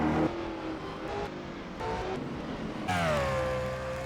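Race cars roar past in a racing video game at a Mexico City circuit, with loud engine tones that rise and shift as several cars pass close by over a few seconds.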